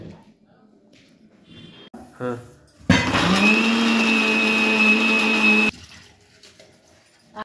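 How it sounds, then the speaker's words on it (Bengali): An electric mixer grinder whirs loudly for about three seconds as it grinds coriander leaves and green chillies, starting abruptly and cutting off sharply, with quiet handling noises before and after. "এগুলো একটু মিক্সিতে গ্রাইন্ড করে নেবো"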